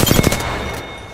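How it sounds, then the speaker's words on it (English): Gunfire in Apex Legends plays as a quick burst of several rapid, loud shots up front, followed by a dense lingering rumble that slowly fades. "I'm taking fire."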